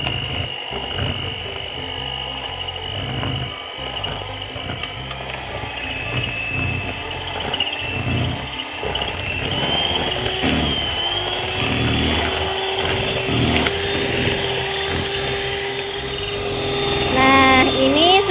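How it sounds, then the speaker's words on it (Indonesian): An electric mixer whirs at high speed through sponge-cake batter of eggs and cornstarch, a steady high whine with the beaters chattering against the bowl throughout. "Kemudian mixer dengan kecepatan tinggi sampai mengembang ya"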